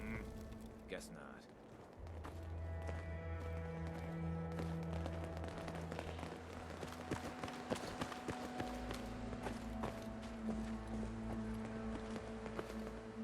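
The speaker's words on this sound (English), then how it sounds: "Oh, I can hear footsteps from everywhere." Footsteps in the video game Fallout 4 patter repeatedly in a steady, clopping rhythm, blended into a dense bed of sustained music and ambient game sound throughout.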